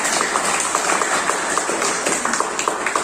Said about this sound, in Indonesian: Tepuk tangan dulu untuk mereka.